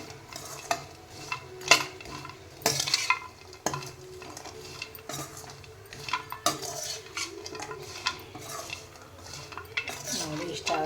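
Frying in ghee in a pan, with a soft sizzle under repeated scraping, clinks and knocks of a metal spoon against the pan, irregular and close over about eleven seconds.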